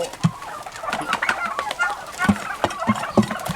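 Turkeys on a farm in Nakhon Phanom, Thailand, make a busy run of close, repeated clucks and short gobbling calls that overlap in an uneven rhythm.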